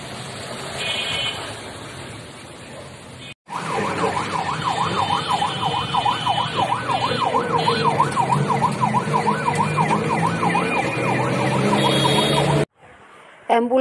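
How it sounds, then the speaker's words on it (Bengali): An ambulance siren wails on a road in Faridpur, a loud rapidly oscillating tone lasting several seconds over traffic noise, preceded by road ambience. "অ্যাম্বুলেন্সের শব্দ শুনলেই বুকের ভেতরটা মোচড় দিয়ে ওঠে"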